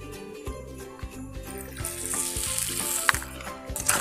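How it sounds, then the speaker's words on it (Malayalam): Vinegar hits hot beetroot pickle in a pan, and a sizzling hiss swells in midway and holds to the end, with a few light clinks under quiet background music. "ഇനി നമ്മളിതിലേക്ക് ആവശ്യത്തിന് വിനീഗർ ഒഴിച്ചു കൊടുക്കും."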